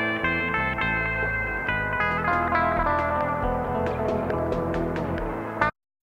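A drum machine run through a 1970s tape echo, mixed on an 8-track cassette recorder for surf rock, plays a dense echoing pattern with repeating tail, loud and steady before cutting off abruptly.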